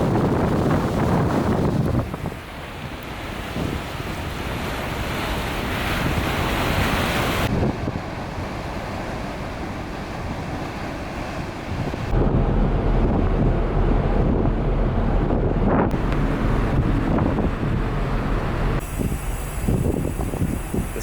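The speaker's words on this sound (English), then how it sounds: "It's a really nice sort of tranquil ride on this ferry because it's an inland sea." Waves wash and wind buffets the deck of a ferry crossing the Caspian Sea at sunset, a continuous rushing roar with gusty microphone noise and no speech.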